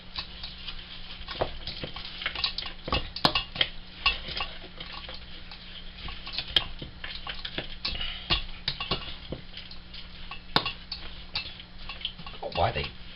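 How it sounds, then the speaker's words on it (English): A spoon stirs a carrot cake mixture in a bowl, giving repeated close scrapes and light clinks in an uneven rhythm, with talking heard alongside. "it says to mix that in with the carrot mixture with a spoon"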